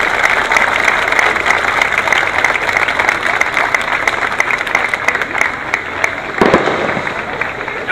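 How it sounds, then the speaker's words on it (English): An outdoor crowd at a Memorial Day parade claps continuously, a dense, steady wash of applause that is loud and close throughout. "Please join me in giving a warm round of appreciation applause for Marcia Kruzman."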